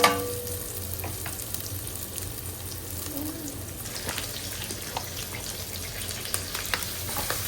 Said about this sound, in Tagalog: Gisa natin sa sibuyas, bawang at luya.